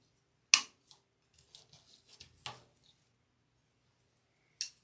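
Nippers snip floral bush stems for a lavender grapevine wreath: a sharp close clip, several small snips and rustles, then a final crisp cut, separated by silence.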